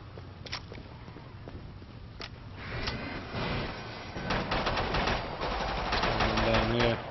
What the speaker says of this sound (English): there's got like a really fast firing gun